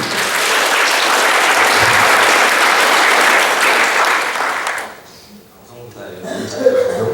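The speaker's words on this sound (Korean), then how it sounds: "박수 한번 크게 부탁드립니다" Loud, dense applause from a crowd at a live performance, sustained for about five seconds before dropping off, followed by quieter room noise and scattered voices.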